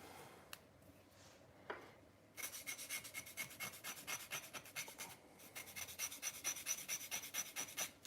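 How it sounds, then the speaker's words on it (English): Rhythmic rasping of a stone sanding block rubbed back and forth over a model's edges for weathering, close and steady, each stroke a gritty scrape after a few quiet taps. "that's just a sanding block"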